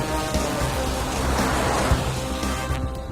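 Steady rain pours down in a dense, continuous hiss with some low rumble beneath, filling the whole stretch without pause and with no voices.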